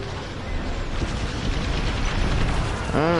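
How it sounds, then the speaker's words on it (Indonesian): Explosion in a shooter video game, a dense, loud rumbling burst that fills the clip, with a rising whine and metallic clatter near the end. "Meledak."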